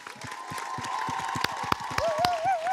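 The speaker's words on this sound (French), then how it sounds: "Nous allons vous applaudir. Bravo Jean-Pierre." An audience applauds the news anchor Jean-Pierre Pernaut at the close of his final lunchtime news broadcast, with a run of separate claps and a sustained tone, followed by a brief warbling sound near the end.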